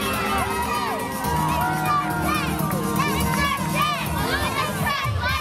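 Crowd at a wrestling show, full of children shouting and cheering with high excited voices rising and falling continuously, loud and close, over a general roar of the audience.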